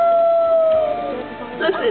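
A voice imitates a wolf howling, a drawn-out wavering tone that slides down, then rises into a short second wail, close and fairly loud.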